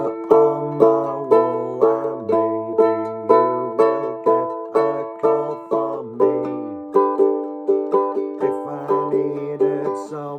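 Ukulele picking the riff of The Beatles' If I Needed Someone, bright plucked notes repeating in a steady rhythmic pattern, close and clear with no talking.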